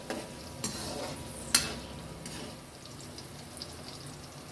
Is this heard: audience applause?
no